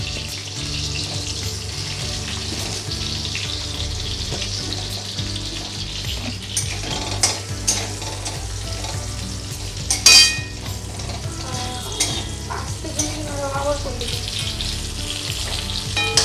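Mango pieces fry in hot oil in a pan as part of a snakehead fish curry. A steady, close sizzle continues throughout, with occasional stirring clatter and a brief splash of water near the middle.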